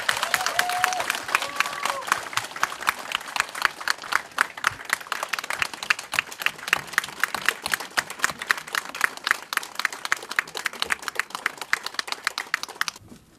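Applause from an assembly hall audience welcoming the newly elected 40th president of the Korean American association of the Washington area, a steady dense clapping that carries on for the whole stretch with a few short murmurs mixed in.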